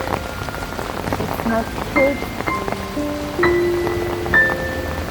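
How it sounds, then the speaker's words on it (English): Heavy rain falls steadily on a campus walkway on a rainy day, a dense constant patter close by, with a brief spoken remark and scattered tonal background sounds. "you can see it's raining"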